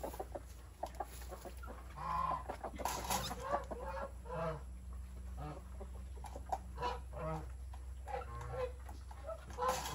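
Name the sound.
chickens clucking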